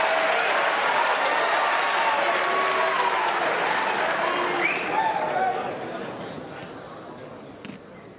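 A large arena crowd at the Mosconi Cup pool event in Las Vegas erupts in loud, sustained applause and cheering that slowly fades toward the end, with commentators talking over it.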